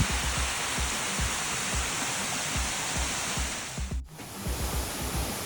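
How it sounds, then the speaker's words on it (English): A small waterfall beside a walking trail on the Te Araroa between Rangiriri and Ngāruawāhia gives a steady, close rushing roar, with rhythmic low thumps like footsteps and a brief dropout near the end. "Just on the walkway on the way down, a beautiful little waterfall."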